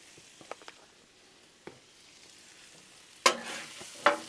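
Potatoes go onto a hot Blackstone griddle. A few soft taps are followed by two loud bursts of sizzling frying that spike and then settle into a steady hiss.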